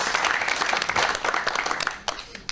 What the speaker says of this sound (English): I would like to ask the people who are here to give themselves a round of applause